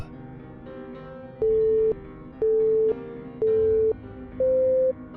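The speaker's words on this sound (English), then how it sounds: "the phone hung up." Four evenly spaced telephone busy-signal tones pulse loudly over a quiet background after a call is hung up, each beep lasting about half a second.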